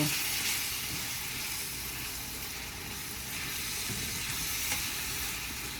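Cabbage with onion, green pepper and garlic sizzles steadily in seasoned broth in a pan, a continuous close frying hiss with soft stirring scrapes.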